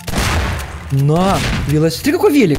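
In the video game Garry's Mod, canisters burst in a noisy explosive blast, followed by someone talking loudly in Russian.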